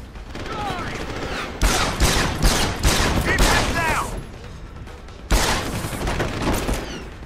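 Gunfire in the video game Deus Ex: Human Revolution comes as dense bursts of shots, loud and close, with a pause before another heavy volley, and a voice talks briefly over it.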